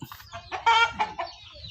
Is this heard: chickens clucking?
yes